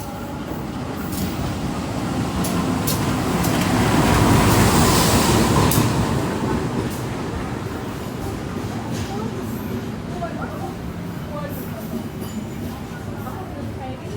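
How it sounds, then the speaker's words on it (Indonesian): A Bandung Raya commuter train pulls into Cimekar station on track 1 from the east, its steady rumble swelling loud around the middle then easing, with faint wheel clicks and a voice talking over it. "Kita masih menunggu kedatangan kereta api komuter lain Bandung Raya dari arah timur akan masuk di jalur 1 di stasiun Cimekar."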